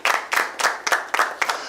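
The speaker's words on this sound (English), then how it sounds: "A round of applause for them, please." Audience applause at the Accountancy Challenge Nigeria TV game show, several short bursts of clapping rising and falling in quick succession, fairly close and lively with no voices over it.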